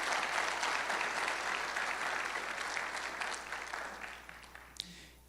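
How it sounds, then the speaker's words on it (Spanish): A church congregation applauding together, dense, steady clapping that fills the room and gradually thins out, with a few scattered claps at the end and no talking. "Démosle un fuerte aplauso al Señor."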